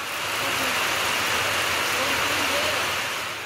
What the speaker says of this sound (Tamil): சுமார் இரண்டு மணி நேரம் கனமழை பெய்தது